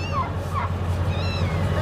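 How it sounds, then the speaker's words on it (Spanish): Cats meow at a flea market in Canton, Texas, with a few short, close mews rising over a steady background hum and crowd noise. "Acá hay más gatos."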